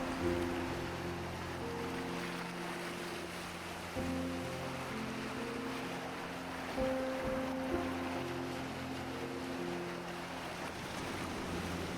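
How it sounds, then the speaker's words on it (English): Ocean waves crash steadily against coastal cliffs near a village outside Lisbon, a continuous broadband surf roar with a low rumble and sustained tonal hum throughout, no voices. "filling the village with the soothing sound of crashing waves"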